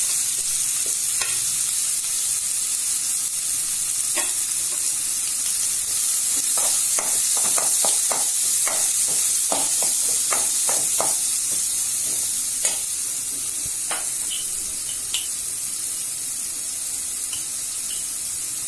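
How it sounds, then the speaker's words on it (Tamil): Sliced large onions and curry leaves fry in a pan for egg gravy, giving a steady close sizzle throughout with scattered sharp crackles and pops, plus occasional scraping of a stirring spoon. "வெங்காயம் நல்லா வதங்கணும்."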